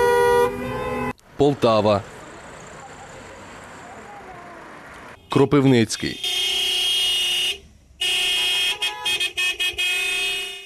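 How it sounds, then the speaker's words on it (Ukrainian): Drivers in Ukrainian cities sound their car horns during a fuel price protest, with repeated loud honks and long blasts in bursts, mixed with traffic noise and a news narrator talking between them. "Ось так під сигнали клаксонів та з іронією автомобілісти усієї України на одну годину зупинили рух чи не у кожному місці."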